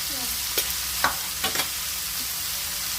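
Spices frying in oil for a North Karnataka bitter gourd curry, a steady close hiss with several short scraping stirs of a spoon against the pan.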